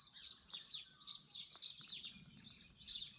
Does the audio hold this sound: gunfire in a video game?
no